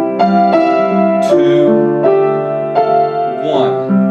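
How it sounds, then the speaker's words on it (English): Piano chords in a 1-2-1 progression using minor chord substitutions, sustained voicings changing several times, played alone at moderate loudness with no talking. "that'll make a 1-2-1 progression that sounds like this"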